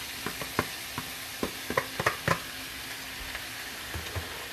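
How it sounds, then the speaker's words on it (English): Shrimp dropped into a hot skillet with garlic sear on high heat as part of a seafood mac and cheese, giving a steady broadband sizzle with scattered pops and crackles, close and moderately loud. "I'm gonna turn the stove back high and drop these shrimps in"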